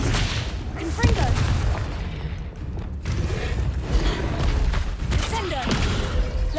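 Confringo blast spells exploding in the Hogwarts Legacy video game, with rumbling booms and crackling impacts layered over dense combat noise, loud and close, while a voice calls out spell names.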